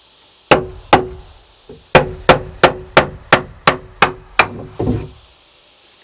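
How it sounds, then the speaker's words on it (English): Hammer blows knock boards loose from an old wooden deer stand being torn down, about a dozen sharp, loud wooden whacks, several in a quick steady run, close by with no talk. "Maybe I can use the hammer after all."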